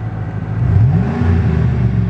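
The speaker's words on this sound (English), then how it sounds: "Let's go ahead and start this truck up." A 2009 Chevy Silverado 1500 LT crew cab truck with an altered exhaust starting up, a loud, close engine turnover that rises into a rumbling rev and settles into a steady idle.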